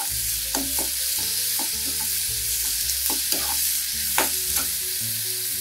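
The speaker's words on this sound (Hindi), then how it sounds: "स्लो कर रही हूँ और ऐड कर रही हूँ अनियन।" Onions frying in a pan over a medium flame, with a soft, steady sizzle broken by regular stirring taps and scrapes, heard up close without talk.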